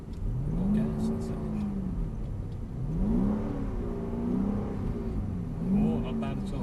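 Mercedes-AMG car driving on a track, its engine revving and rising in pitch in repeated acceleration surges, loud and close, with a person talking over it.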